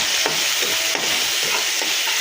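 Onions and green chillies fry in a pan with a loud, continuous hiss and crackle of hot oil, broken by occasional stirring scrapes.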